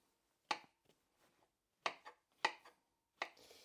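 A knife chops onions on a board in four sharp, separate strokes with short pauses between them, close and clear against a quiet room.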